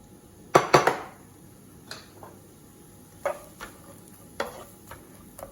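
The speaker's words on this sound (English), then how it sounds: "So let's get our onion in this, start just lightly cooking off." Onion drops into a pan with grated zucchini and carrot, beginning with a loud clatter of utensil on metal, then softer scattered scrapes and taps over a faint sizzle.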